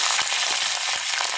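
Garlic, dried red chillies and curry leaves tempering in hot oil with mustard seeds, a continuous close sizzle and crackle with faint stirring pulses.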